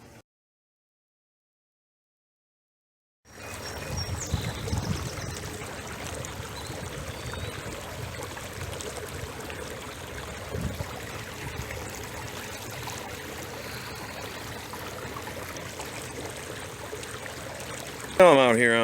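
Water of the Maple River streams steadily around a kayak, a constant close wash and rush that begins after a short silence and carries on without a break.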